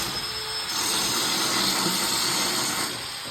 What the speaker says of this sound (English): And that's how you grind right there.